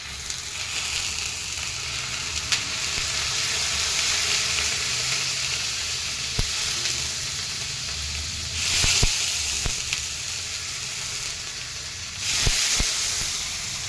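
Banana milk toast frying in ghee with a splash of milk in a pan, a steady close sizzle and hiss with a few faint clicks and stirring scrapes, no talk.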